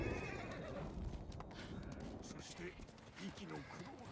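A horse in the video game Ghost of Tsushima whinnies loudly, with hooves clip-clopping beneath it, heard over a voice talking throughout.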